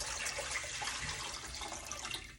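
Water pours steadily into a metal steamer pot, a continuous rushing splash that stays fairly even before tapering off at the end.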